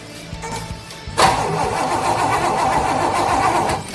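A few faint clicks, then a car's starter cranks with a loud, continuous mechanical churn that never catches into a running engine, which has no spark.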